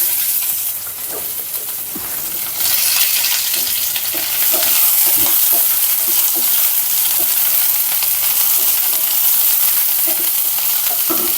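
Garlic and onion fry in a hot pan with a loud, steady, close sizzle. It swells as the ingredients go in, with occasional light clicks of stirring, and no talk.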